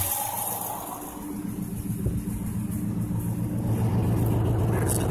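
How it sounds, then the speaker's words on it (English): A 2012 Ford F-150 Raptor's dual exhaust rumbles at idle, a steady low, close throb with a slight swell partway through and no talk over it. "There's the double exhaust there."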